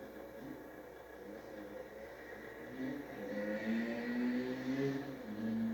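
A vehicle cruising at about 65 miles an hour on a highway, a steady low road and engine rumble with wind noise that swells slightly partway through, with no talking.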